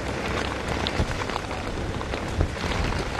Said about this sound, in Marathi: नक्कीच सागर धुवाधार पाऊस या ठिकाणी होताना पाहायला मिळतो आहे